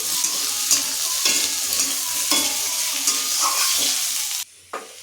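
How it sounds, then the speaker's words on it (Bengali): Chopped capsicum stirred in a hot frying pan, loud close sizzling broken by repeated scraping strokes of a spatula, ending in a brief pause and one last scrape. "এবারে দিয়ে দিচ্ছি ক্যাপসিকাম কুচি। আবার একটু নাড়াচাড়া করে নিচ্ছি।"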